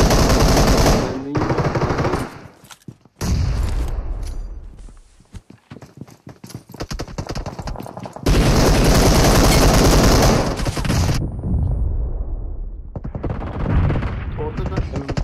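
Rapid automatic gunfire bursts from the mobile battle royale game PUBG Mobile, loud and dense, broken by short pauses, with faint footsteps and a voice underneath in places.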